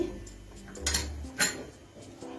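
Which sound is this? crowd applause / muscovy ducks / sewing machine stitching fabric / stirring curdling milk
stirring curdling milk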